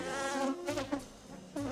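Honey bees buzz around an opened hive during a colony inspection, a close, steady droning hum that swells and wavers as individual bees pass near.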